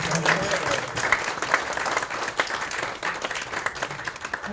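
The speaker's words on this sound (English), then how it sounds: "let's give Richard a nice big round of applause" A lecture audience at a club talk on cruising Newfoundland gives the speaker a warm round of applause, steady mixed clapping from a modest crowd with a voice speaking over it.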